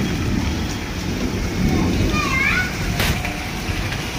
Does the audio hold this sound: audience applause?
no